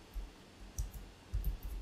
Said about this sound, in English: Now I'll type enter